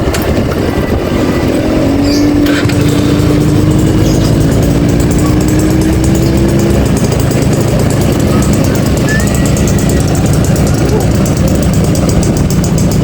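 A red 1993 Yamaha V80 Super Deluxe, a two-stroke 79 cc motorcycle with double starter, runs steadily while being ridden, its engine buzz blending with heavy wind rush throughout, a rising tone briefly standing out early on.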